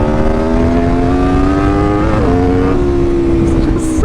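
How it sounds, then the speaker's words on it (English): An Aprilia RSV4 RF Ltd. Edition motorcycle engine revving loud and close, a steady rising howl that dips briefly and settles back to a high, sustained drone. "noise is pretty vital to a good experience on a motorcycle"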